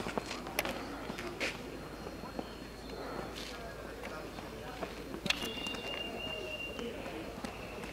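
Pigeons taking off at a pigeon festival in Serres, Greece, with a flurry of wing flaps and scattered calls outdoors, a brief whistle-like tone partway through, amid steady background noise.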